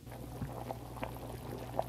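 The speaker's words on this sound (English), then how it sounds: "Ooh, hot dog's boiling sound." Hot dogs boil in a pot of water with a soft, steady bubbling and a low simmering hum. The sound is faint and close, and no voices are heard over it.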